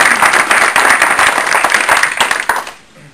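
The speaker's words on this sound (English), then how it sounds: "give a big round of applause for Autumn" Audience applause after an education award presentation in a school district, dense steady clapping from a crowd that fades out sharply near the end.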